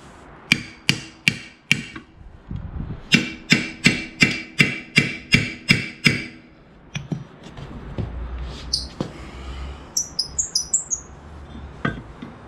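Hammer blows on a worn Renault Kangoo wheel hub, loud close metallic strikes in quick regular bursts, then scattered lighter taps with faint chirping in the background.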